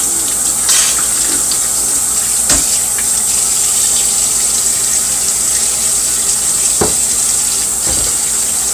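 Hot water runs from a kitchen sink faucet in a steady, close hiss, with a few brief clinks and knocks as something is handled under the stream.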